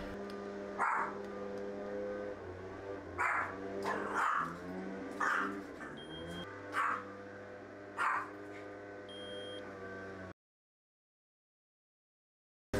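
A dog barks repeatedly at gardeners working outside, a series of separate barks spread over about ten seconds, moderately close, with a steady background hum, then silence.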